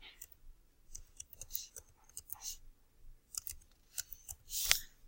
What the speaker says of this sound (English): I'm just going to type in my password